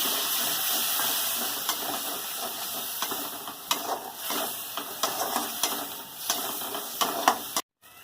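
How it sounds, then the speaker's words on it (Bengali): Tomato, chilli powder and spice paste sautéing with a splash of water in a pan for a home-style mochar ghonto, a steady hiss and steamy sizzle broken by scattered spoon scrapes and stirring clicks, close and continuous until an abrupt cut near the end. "একটা টমেটো কেটে দিয়ে দিচ্ছি অল্প একটু জল দিয়ে মশলাটাকে ভালো করে কষিয়ে নেবো"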